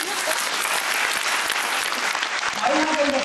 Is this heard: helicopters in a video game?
no